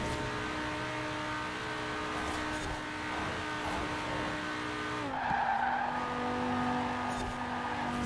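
Car engine in Forza Horizon 4 holding a steady droning note with faint tire squeal, the pitch dropping and shifting slightly partway through, continuous and fairly close.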